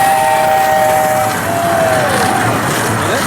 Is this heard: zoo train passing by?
yes